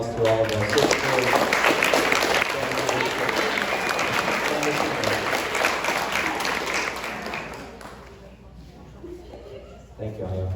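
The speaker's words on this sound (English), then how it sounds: "Let's give another round of applause to all of our sixth grade." Loud, dense applause from a school band concert audience at a JISD spring 2023 concert, sustained for about eight seconds and then thinning out, with a brief swell at the end.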